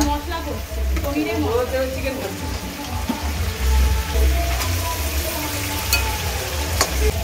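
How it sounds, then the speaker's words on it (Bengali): Potatoes for a meat curry fry in a pan in a home kitchen, giving a steady, loud sizzle with stirring scrapes throughout, while voices murmur faintly underneath. "এখানে মাংসের আলু ভাজা হচ্ছে"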